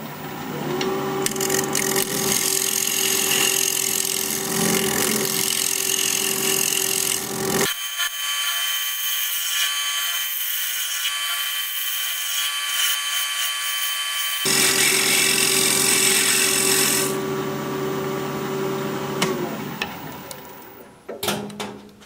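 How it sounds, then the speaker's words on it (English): A tool shear scrapes wood spinning on a wood-turning lathe, making a close, continuous rasping scrape that pauses for several seconds in the middle while the lathe keeps humming, then resumes before tapering off. "I'm going to do a little bit of shear scraping right here."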